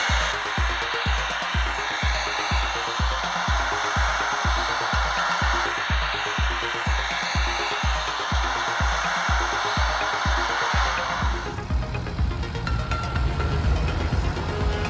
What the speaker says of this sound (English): The 110 horsepower engine roared with power, pulling the 5-blade plow number 14 to cut the ground strong